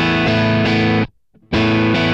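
Dry, clean electric guitar with no reverb or effects plays loud ringing chords, struck in quick succession before a short silence and another strummed chord.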